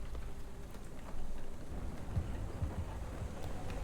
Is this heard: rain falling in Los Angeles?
yes